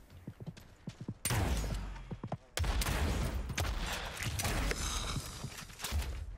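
Distant gunfire in the video game Realm Royale: scattered light shots early on, then two long bursts of dense, rumbling firing that fill the clip, with no talking.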